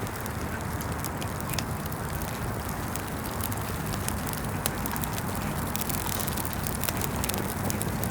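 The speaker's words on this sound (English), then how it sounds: "So that was a nice fire sound. You'll see we have this nice crackling fire through the entire spot." A crackling campfire burns through a desert camping ambience at dawn, with sharp irregular pops and snaps scattered over a steady soft hiss, moderately quiet and continuous.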